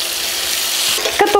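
Salmon cutlets frying in a pan give a steady, close hiss of sizzling fat, with a brief burst of sharper crackle and clatter near the end as they are turned.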